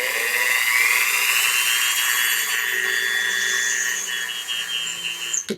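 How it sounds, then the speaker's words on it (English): A Dremel rotary tool drilling into a resin coaster, a continuous high-pitched whine held steadily close up for several seconds before tapering off at the end. "So I'm taking my Dremel and I'm going to decide where I want the flower."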